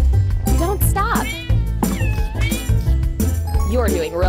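Kitten meows from a kids' cartoon video game about finding lost kittens, repeated high rising-and-falling cries in quick succession over a busy, steady game backdrop.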